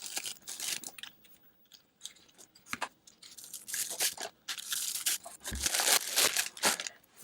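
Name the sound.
unwrapping packaging of heated mittens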